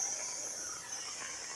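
A pressure canner loaded with green beans vents steam in a steady, faint, high hiss that runs unbroken with no talking.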